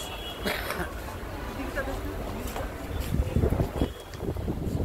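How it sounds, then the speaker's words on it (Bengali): Cold wind gusts and buffets the microphone in a busy Manali market, a continuous rushing roar with faint crowd murmur underneath. "ঠান্ডা হাওয়া দিচ্ছে"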